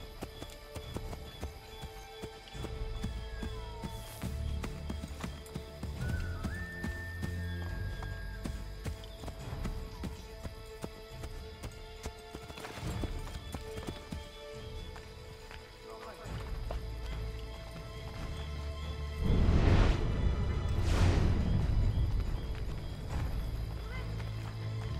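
Horse hooves clip-clop steadily in Assassin's Creed 3 as a mount trots along, with occasional whinnies and a louder burst of hoofbeats near the end, under game dialogue and background music.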